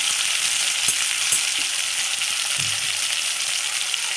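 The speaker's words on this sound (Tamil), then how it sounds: "இது கடலை எண்ணெய் இப்போ ஒரு நூறு எண்ணெய் ஊற்றிருக்குறேன்" Groundnut oil heats in a pan, frying with a constant close sizzling hiss and a few small pops and stirring knocks, with no talk.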